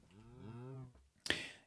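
A single drawn-out moo from a Minecraft cow in the Project Ozone 2 modpack, clear and close, followed by a short sharp click-like game sound.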